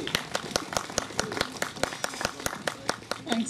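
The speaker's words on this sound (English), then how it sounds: "I just say a round of applause to Catherine for Historic England and giving us the money" A small crowd claps in a steady patter of sharp hand claps for a church re-opening at the bombed-out St Luke's in Liverpool, fairly faint and continuing evenly throughout.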